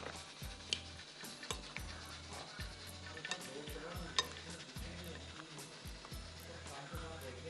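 Fish fingers being hand-mixed with salt and spices in a bowl, a soft repeated rhythmic stirring and squishing at a steady pace, quiet and close.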